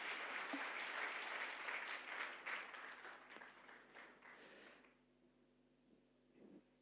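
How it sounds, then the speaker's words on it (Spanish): A church congregation applauds, a moderate burst of clapping from a crowd that dies away after about five seconds into near silence, with a faint voice afterward. "Denos un aplauso, por favor"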